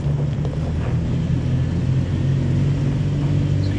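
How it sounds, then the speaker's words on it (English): A 2022 Toyota 4Runner TRD Pro at full throttle off-road makes a steady, loud engine and drivetrain rumble, heard close from inside without a break. "So you can hear the ABS. I'm full throttle."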